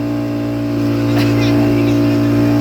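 A motor boat runs at sea off Digha with a loud, steady engine drone and tonal hum close by, while water and wind rush over it and a faint brief voice is heard.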